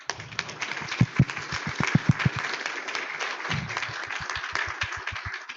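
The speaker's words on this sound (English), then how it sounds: "Can you please applaud Michael?" A membership meeting audience applauds a recognized member, a moderate round of clapping with a few distinct, closer claps in bursts, thinning out partway and picking up again before fading.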